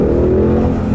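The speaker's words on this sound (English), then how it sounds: "I'll leave you guys with a nice little acceleration here, like I always do." A car on snow tires accelerates, its engine holding a loud, steady droning tone throughout the short clip with no one speaking.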